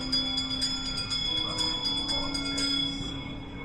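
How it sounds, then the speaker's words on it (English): A bell rings repeatedly during the Haunted Mansion ride at Disneyland, a series of quick bright strikes over a steady background hum. "give us a hint by ringing a bell"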